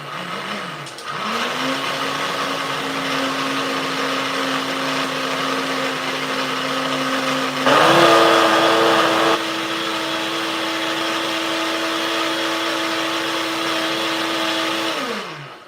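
A blender churns a raspberry cheesecake mixture with ice cubes at low speed, a loud steady motor whine that steps up slightly in pitch partway through, with a brief burst of crunching ice before it runs on and stops.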